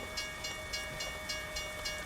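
A train rolls past a road crossing in American Truck Simulator, its wheels clacking in an even, repeating rhythm over a steady rumble and hiss, close and unbroken.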